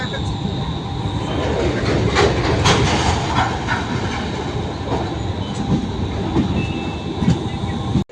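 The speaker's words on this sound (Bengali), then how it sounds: "আমাদের ট্রেন পৌঁছে গেছে নিউ জলপাইগুড়ি স্টেশনে।" A train pulls into New Jalpaiguri station, a steady loud rumble of rolling railcars with clickety-clack and faint squeal throughout, busy station din and scattered voices mixed in.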